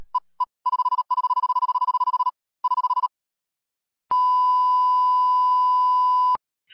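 A bars-and-tone test signal in a video editor: a steady pure beep tone that starts and stops in short broken bursts, then after a gap holds as one continuous, brighter tone for about two seconds before cutting off abruptly.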